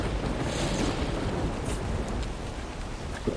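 Ocean surf washing against the shore in Ark Survival Evolved, a steady broadband roar of waves mixed with wind, continuous and fairly loud with no voices.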